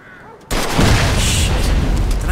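Gunfire striking a car's gas tank in the Mafia 2 video game, set off by a loud sudden blast that turns into a sustained roaring explosion and rumble after a quiet start.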